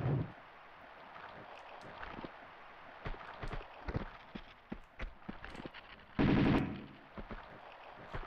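Pistol fire in the video game Tomb Raider II, heard as rapid repeated shots over a steady game background, with a louder burst near the end and no talking.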